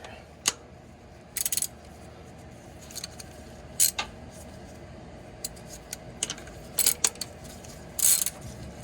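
Ratchet snugging down the oil drain plug on a Toyota Tundra during an oil change, heard as a few short, brisk clicking bursts spaced over several seconds against quiet background noise.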